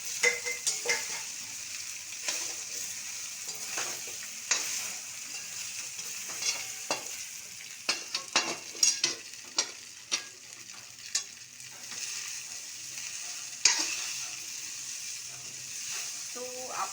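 Dhokla pieces stirred and fried in a pan, a soft steady sizzle broken by repeated scraping clicks of a spoon against the metal, moderately quiet and close.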